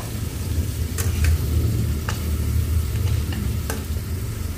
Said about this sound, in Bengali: পেঁয়াজটা নেড়ে দিলাম।